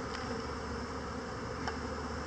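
Honey bees buzz in a steady, dense drone throughout a sugar shake varroa mite check, close and continuous with no voices.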